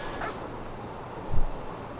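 A dog in the video game What Remains of Edith Finch gives a couple of short, faint yips or whimpers, one early and a low thump-like bark later, over a quiet ambient background.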